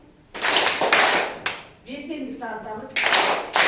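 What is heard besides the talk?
classroom children clapping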